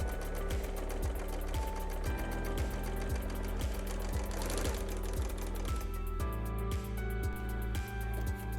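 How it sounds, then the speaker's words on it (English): Serger sewing machine stitching binding onto a seam: a loud, continuous rapid mechanical hum and clatter, close by, that shifts slightly in pitch partway through and runs steadily without speech. "So I'm going to be very careful not to sew over my pins."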